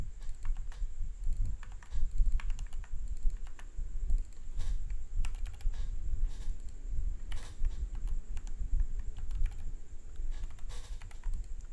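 Rapid, steady typing on a computer keyboard while entering shortcuts in Google Docs: close, crisp clicks in an uneven patter that continues throughout, with no talking.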